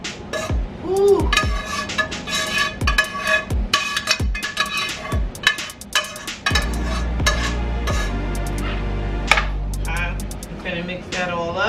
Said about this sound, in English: Get every single piece of spaghetti coated with the sauce.